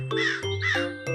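Crows in an animated fairy tale, called by a spell to help with a harvest, give three loud, harsh caws in quick succession, close and clear with no talk over them.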